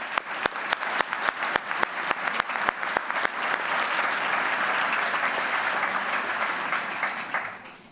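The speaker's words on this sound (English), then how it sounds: "A big round of applause for Yuhan." Audience applause at an essay competition award ceremony, beginning with a few distinct sharp claps that swell within seconds into a full, steady round of clapping from a sizeable crowd, then easing off at the end.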